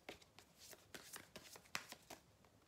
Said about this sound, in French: Allez, je vais prendre une carte.